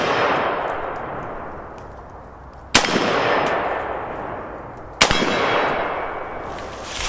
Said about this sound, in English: Gong.